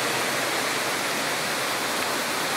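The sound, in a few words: waterfall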